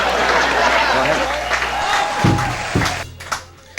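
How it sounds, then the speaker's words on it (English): A talk-show studio audience applauding in a dense wash of clapping that holds steady for a couple of seconds, then tapers off into scattered claps and a voice. "a round of applause for those that are familiar with American Splendor"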